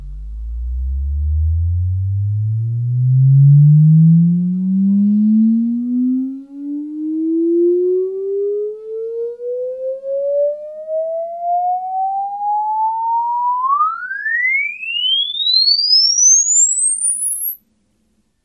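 A test tone played through an IK Multimedia iRig mic sweeps smoothly upward from deep bass to a very high whine over about eighteen seconds, loud and steady, with no voices.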